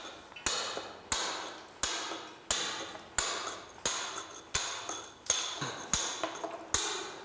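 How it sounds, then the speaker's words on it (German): Steady hammer blows drive a point chisel into stone to knock off the rough boss, about a dozen sharp metallic strikes at an even pace of roughly one every half second, close and clear. "Als nächstes wird mit dem Spitzeisen der sogenannte Bossen abgespitzt, abgearbeitet."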